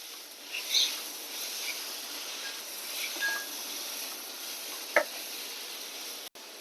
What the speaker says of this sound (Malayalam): ഞാൻ അതിലേക്ക് ഒരു വലിയ തക്കാളി ആയിരുന്നു ഒരു അര തക്കാളി ഇട്ടിട്ടുണ്ട് അതും ഒന്ന് വഴറ്റട്ടെ